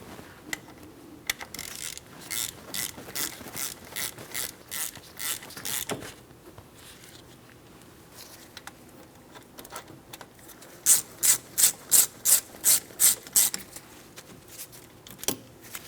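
A hand ratchet tightens the front brake caliper bolts on a 2004-2008 Pontiac Grand Prix. Rapid clicking bursts repeat close up, alone and without talk, and grow louder and sharper near the end.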